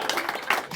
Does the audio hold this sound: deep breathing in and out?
no